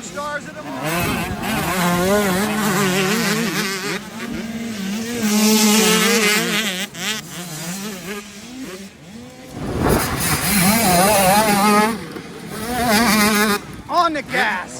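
Youth riders on motocross bikes race at the Mini O's amateur event, engines screaming at full throttle with rising and falling pitch as the pack passes close by, loud and continuous under an excited announcer's commentary.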